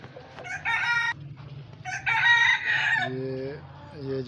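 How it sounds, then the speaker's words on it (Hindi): Blue Australorp chickens cluck and crow close by in a run with a cage, with bursts of hen clucking and a male's short crow-like calls over a low background hum. "ये ब्लू ऑस्ट्रलोप फीमेल्स और ये जी मेल है इनका"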